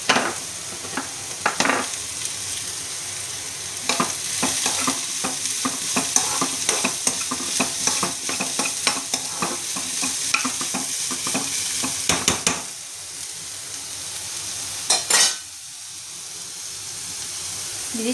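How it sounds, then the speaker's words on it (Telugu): Chopped beetroot fries in oil in a kadai, giving a steady, close sizzle broken by frequent scraping clicks as it is stirred. The hiss briefly drops away before returning. "తరిగి పెట్టుకున్న బీట్రూట్ని ఈ బాండీలో వేసుకొని బాగా వేగనిచ్చాలండి"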